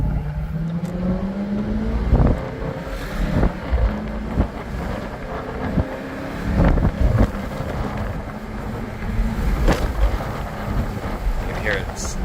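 Engine note rising and falling inside a 2019 Jaguar F-Type SVR, with several sharp exhaust pops and crackles on paddle-shift downshifts, under steady wind rush and occasional talking.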